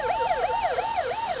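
A fire engine siren wails in a steady rising and falling cycle as the truck arrives at a car fire at an abandoned factory, loud and close, heard alone.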